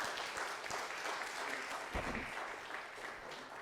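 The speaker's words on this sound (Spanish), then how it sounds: "Denle un fuerte aplauso al Señor" A church congregation applauding in a dense, steady clatter of clapping that fills the whole moment, with faint voices mixed in.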